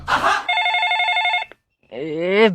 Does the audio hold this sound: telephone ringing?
yes